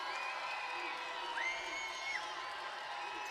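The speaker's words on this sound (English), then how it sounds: "Crowd starting to get into it now." Basketball arena crowd cheering and whooping at a steady, moderate level, with a few shrill shouts rising above the broad roar.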